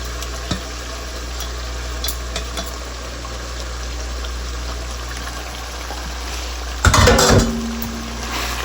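Spinach paste is mixed into browned chicken in a pot, a low bubbling simmer over a steady hum, with faint clicks and a loud burst of stirring and scraping near the end.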